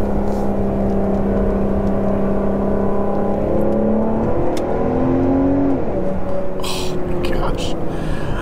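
Volvo V60 Polestar with an SPB remote-controlled exhaust revving loudly and steadily, the engine note rising and falling in pitch over a continuous rumble, with faint whispery noise on top.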